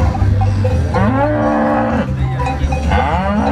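A cow moos loudly and close by, a long low bellow that rises and wavers, then a second call begins.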